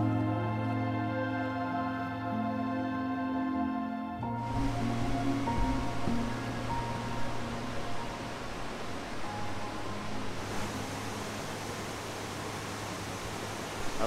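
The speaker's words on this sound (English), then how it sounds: "I'm up above the waterfall that flows directly beneath the bridge now." A waterfall in Cloudland Canyon State Park pours directly beneath a bridge, heard from just above it as a steady, dense roar. A low mechanical hum sits over the first few seconds, and no one speaks.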